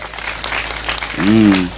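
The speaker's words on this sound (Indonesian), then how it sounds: "tepuk tangan untuk Amanda, keren" An audience applauds at an Islamic sermon gathering, a steady wash of clapping that keeps going while a voice rises in a sustained, sung or drawn-out tone near the end.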